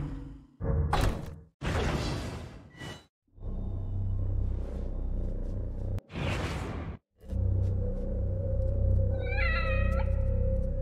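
A cat meows in The Evil Within: The Consequence DLC, a few clear, close meows standing out over a low rumbling game ambience with whooshing movement sounds.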